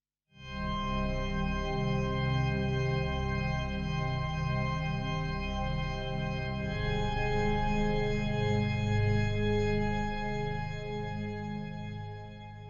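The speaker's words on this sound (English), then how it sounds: "it's this fabulous Baltica pad, and I really love this. Sounds like this on its own." A sustained Baltica synthesizer pad with a rich, shimmering tone, swelling in and holding steadily for several seconds on its own.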